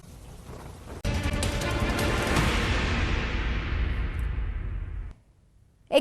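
Heavy rain and a rolling thunder rumble over a rainy landscape in Gir Somnath district, Gujarat, starting suddenly, holding loud and dense for about four seconds, then cutting away.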